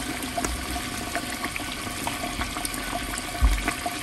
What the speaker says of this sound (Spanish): Le voy a agregar el jugo de 3 naranjas.